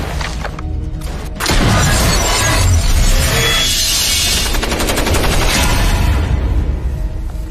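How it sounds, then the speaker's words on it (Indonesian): Heavy automatic gunfire in a Korean War sniper film scene, a loud sustained burst of machine-gun fire with crashing impacts and shattering debris after a brief opening shot. "Ia membabi buta menembak ke arah para sniper ini"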